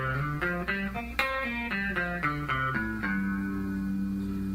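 Guitar plays a stepwise scale run of distinct plucked notes, climbing and then descending within one position, each note ringing with harmonics; steady, close and fairly clean, with no talking.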